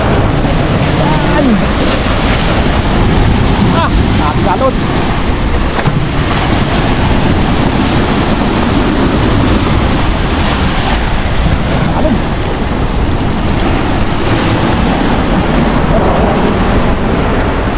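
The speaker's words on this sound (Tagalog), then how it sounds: "Dito lang talaga malakas ang alon." Loud surf and rushing water wash continuously around a boat, with heavy wind buffeting the microphone and occasional faint voices underneath.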